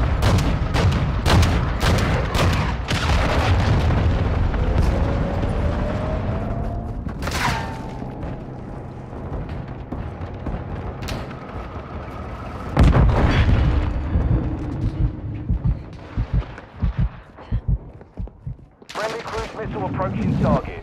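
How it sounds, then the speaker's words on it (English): A cruise missile strike in Call of Duty: Modern Warfare II brings loud, rolling explosions and booms, with dense gunfire bursts around them and brief radio voices over the combat. "Hostiles launched a cruise missile."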